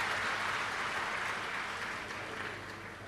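Loud, sustained clapping from a large audience at a Shiv Mahapuran religious discourse in Chalisgaon, dense and steady throughout and easing slightly toward the end, with no speech over it.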